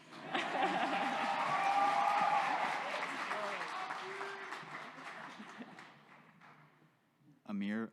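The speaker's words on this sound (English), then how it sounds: "Okay, he gets some applause." An audience at a medical school white coat ceremony applauds, sustained clapping that fades over several seconds before a brief voice cuts in at the end.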